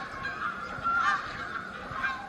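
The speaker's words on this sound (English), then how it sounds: "watch a gaggle of Canadian geese waddle down the path to the lake" Canada geese honking by a lake, several moderately distant honks in quick succession over soft outdoor ambience.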